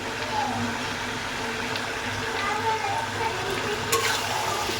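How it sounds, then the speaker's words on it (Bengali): Chopped onion and ginger garlic paste fry in a pan, producing a steady, moderate sizzle with faint stirring scrapes running evenly throughout. "আদা রসুনটা বেটে নিয়েছি এটা দিয়ে দিব আর সঙ্গে নিয়েছি পেঁয়াজ কুচি পেঁয়াজ কুচিটা দিয়ে দিব"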